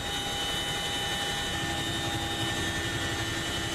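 A constant, roaring military aircraft engine drone overhead at about 600 m, with steady high whining tones, fills the air, loud and unchanging from start to finish.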